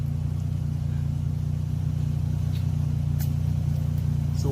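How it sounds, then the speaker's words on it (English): Lexus GS300 car engine idling after being started, a steady low hum with a constant rhythmic throb, close and unchanging throughout, with a few faint clicks. "We actually got the car started, which is right here."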